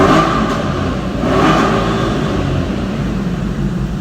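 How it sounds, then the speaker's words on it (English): An Audi A6 with a 4.2 V8 is revved through its exhaust on a winter day, giving a loud, close, steady engine roar that swells slightly early on and stays strong throughout. "but just want to get this exhaust clip quick."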